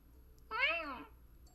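A single cat meow from the video game YIIK, short and clear with a rising-then-falling tone, heard alone over a faint background hum.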